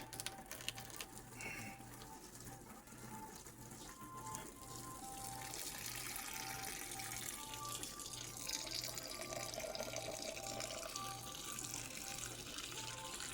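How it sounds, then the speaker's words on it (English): Warm water pours steadily onto coco coir in a container nearby, a continuous trickling stream that grows slightly fuller over time, with a faint low hum underneath. "I have warm water, and I have 8 cups right here, and I'll just pour it on top"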